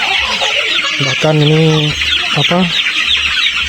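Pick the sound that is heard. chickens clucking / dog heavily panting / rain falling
chickens clucking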